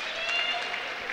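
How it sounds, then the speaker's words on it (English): Crowd in a high school gym at a boys' basketball game between Lorain and Cleveland Rhodes gives a brief round of applause, a steady murmur of clapping beneath a play-by-play announcer's voice. "there's a round of applause for Damon Heisel"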